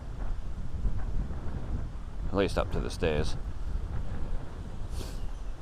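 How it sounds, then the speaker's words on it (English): Low, rumbling wind buffets the microphone throughout, with a person speaking briefly over the gusts. "It's very windy."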